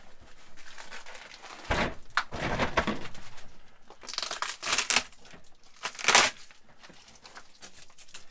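Plastic packaging around a mattress is cut open with a stretch of crinkling and tearing, and several louder crunching bursts rise over a steady rustle.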